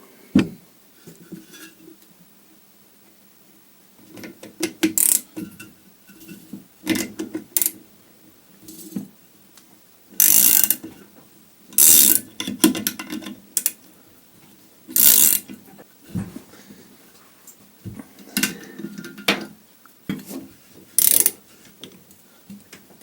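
A socket wrench on the shock absorber nut of a Land Rover Defender ratchets in repeated bursts of rapid clicking, some short and some sustained, separated by pauses, close and loud against a quiet background.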